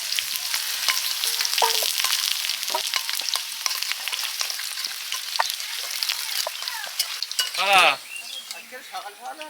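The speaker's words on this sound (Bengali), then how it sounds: "আদা রসুন পেঁয়াজ বাটা তেলে দিয়ে দিচ্ছি" Ginger, garlic and onion paste sizzles steadily in hot oil in a kadai over a wood fire, a dense continuous crackle with occasional utensil clinks, and a brief louder scrape or stir near the end.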